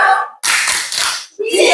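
Group of students in a classroom guidance session clapping together, a short loud burst of many hands that breaks off briefly and resumes, close and energetic.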